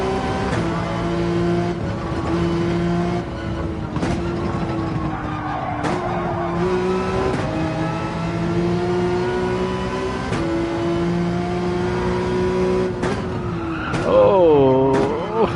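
A race car in Gran Turismo 7 revs hard through gear changes, with the engine note climbing and dropping several times and tyres squealing near the end. The sound is loud and sustained.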